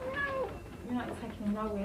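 A kitten mews a few times in a tense domestic standoff, its short cries close and clear but partly under a woman's argumentative speech.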